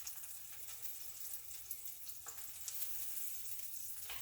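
Lobster roll bread browns in butter in a pan, giving a soft, continuous sizzle with faint crackles and a few light pops, quiet and close.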